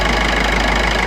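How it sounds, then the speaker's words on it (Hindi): A car engine idles steadily after its intercooler has been cleaned, a continuous even rumble with a faint knocking texture, heard close and alone for about a second. "अब देखिए प्रॉपर साउंड हो गई है जो इंजन की होती है।"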